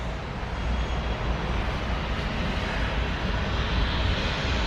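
A Southwest Boeing 737 on flight 1184 to Dallas at Columbus airport gives off a steady, loud, broadband engine roar that holds evenly throughout with no voices.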